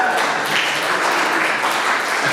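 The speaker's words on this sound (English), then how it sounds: "I want everybody to give themselves a round of applause for making it through wedding season." A comedy show audience bursts into loud, sustained applause, a thick continuous roar of many hands clapping that fills the room without a break.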